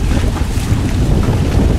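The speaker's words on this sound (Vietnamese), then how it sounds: "nước lớn mà nước xuôi gió xuôi á, nên là cái sóng lên ghê không" Choppy river waves near moored barges at a bridge, with strong following wind and high water, heard as a loud, constant wash of water and buffeting wind against the microphone.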